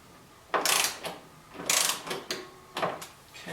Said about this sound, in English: The windshield screws are 25 to 30, so I set the torque wrench to 25 inch-pounds.